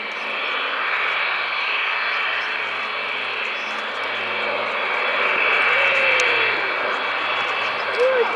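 Avro Lancaster bombers fly over the Dunsfold Wings & Wheels 2014 airshow, their piston engines giving a steady, broad roar that hangs overhead throughout, with an announcer talking over the PA.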